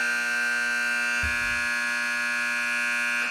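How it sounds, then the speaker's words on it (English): A loud, steady electronic buzzer in a back warehouse drones throughout, harsh and tonal, signalling the end of the workday, with a brief low thump partway through. "That's the buzzer in the back warehouse to let all the workers know it's time to go home"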